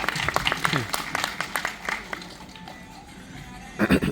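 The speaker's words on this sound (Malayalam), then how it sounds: "എല്ലാവരും ഒരു കൈയടി കൊടുക്കാട്ടോ" An audience at an event for actress Aishwarya Rajan breaks into scattered clapping, with brisk uneven claps running under a talking voice and a louder burst of applause near the end.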